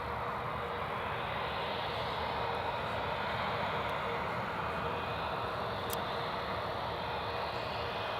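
A British Airways airliner arriving at Newcastle Airport, heard as a steady, broad engine roar at moderate distance that holds evenly throughout, with no voices.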